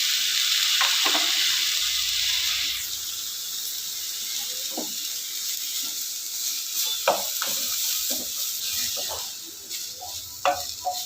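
Mixed vegetables and tomato sautéing lightly in a pan for ragi vegetable soup, a soft continuous sizzle that fades slightly, with a run of clattering stir scrapes in the second half.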